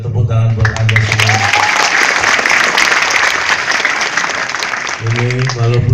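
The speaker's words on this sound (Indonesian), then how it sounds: "Tepuk tangan buat Anda semua" Audience applause at a comedy event in a hotel ballroom, a loud dense burst of clapping filling the middle of the moment, bracketed by someone speaking through a microphone at the start and end.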